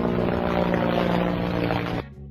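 A helicopter's rotor and engine roar as a loud, dense, continuous drone with steady whirring tones, holding for two seconds before dropping sharply to a quieter hum.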